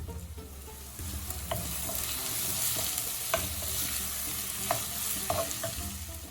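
Sliced onions and chopped potato fry in oil in a home kitchen pan, a steady close sizzle broken by repeated scraping stirs, with no talk.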